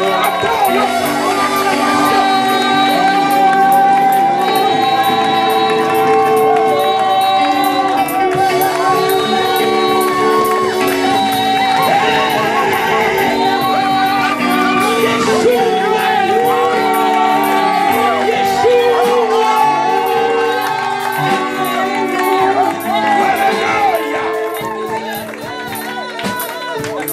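A church congregation acclaims God with sustained shouting, whoops and cheering over loud music, a dense crowd roar that eases slightly near the end.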